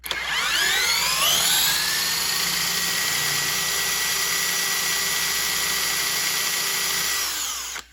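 An electric drill spins up a Federal Signal STH-10 mechanical siren: a loud whine rising quickly to a high, sustained wail, holding steady before cutting off abruptly.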